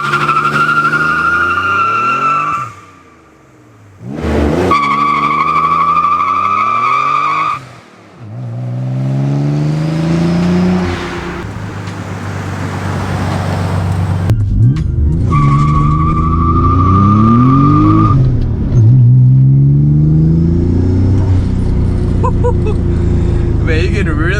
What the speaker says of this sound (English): you can really hear the turbos just kicking in hard